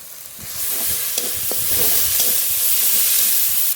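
Coriander, cumin, dried chilli and ginger-garlic paste frying in a pan for chicken, a steady close sizzle with scraping and stirring throughout.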